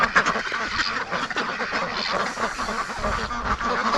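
Muscovy ducks in their pen quacking and honking continuously, a dense, close chorus of overlapping calls from several birds.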